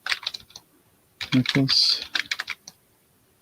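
Computer keys are tapped in a few quick bursts during a live online auction, close and fairly crisp, with a person talking over the clicks.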